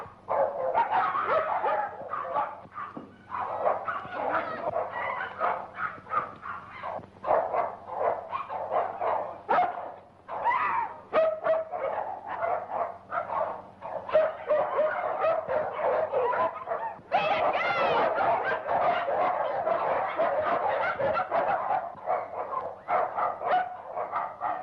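Several dogs released from a cage bark, yip and whimper in a near-continuous, overlapping chorus with steady background hum in a 1930s film scene, loud and close throughout.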